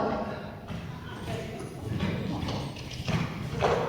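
A ridden horse canters on an arena surface during a schooling lesson, its muffled hoofbeats repeating steadily through continuous outdoor noise with a faint voice in the background.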